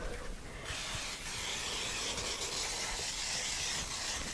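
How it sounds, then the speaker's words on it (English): Cooking spray with flour hissing into a cake pan, a close, continuous aerosol spray sustained for several seconds. "lightly spray it with some cooking spray"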